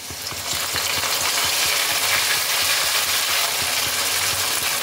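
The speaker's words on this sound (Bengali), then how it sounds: "এবার এই পেস্টটাকেও তেলের মধ্যে ভালোভাবে কষাতে হবে যতক্ষণ না আদা রসুনের কাঁচা গন্ধটা চলে যায়।" Ginger-garlic paste frying in oil over browned onions, a loud, dense sizzle that continues without a break, with faint stirring scrapes underneath.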